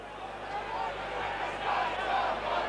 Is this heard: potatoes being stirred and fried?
no